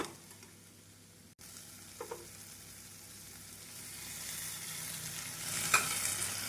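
Masala powder and salna sautéed and stirred over a medium flame in a pan for veg kothu parotta; a faint, steady sizzle with a few soft spatula knocks and scrapes.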